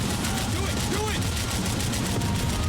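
Gunfire from shooting at vehicles in Max Payne 3, a dense continuous barrage of shots under a loud action soundtrack with voices faintly mixed in.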